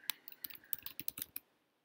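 Quiet, close computer keyboard typing of C++ code, a quick run of about a dozen keystrokes that stops near the end, with no voice.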